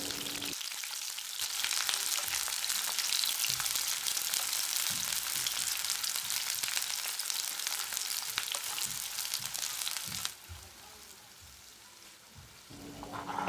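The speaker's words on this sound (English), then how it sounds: "In a pan, add 3 tablespoons oil and fry the onion." Sliced onion rings frying in three tablespoons of hot oil in a pan give a steady, close sizzle that runs on without a break and softens slightly near the end.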